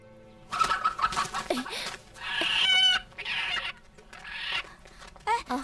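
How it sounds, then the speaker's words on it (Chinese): A hen clucks in a rural village household, giving a few short, fairly close calls spread across the moment with some background noise between them. "这可是咱家唯一的老母鸡，还指它下蛋呢。"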